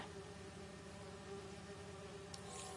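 Steady bee buzzing from the Spider-Man 2 video game, a continuous droning hum with a faint high flutter, quiet and even throughout the short stretch with no talk.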